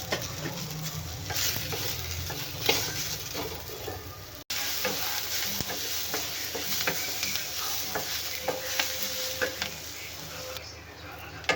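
Four large onions sizzling in oil in a pan, a constant soft frying hiss with the spatula stirring and scraping now and then, close by and moderately quiet, with a short break in the middle.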